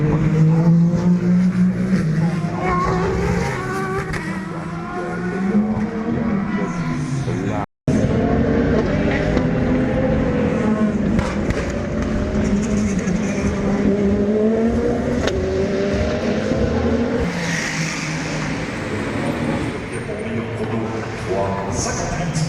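Race cars at the Le Mans 24 Hours test day roar past one after another, engines rising and falling in pitch as they approach and recede, loud and continuous with overlapping passes.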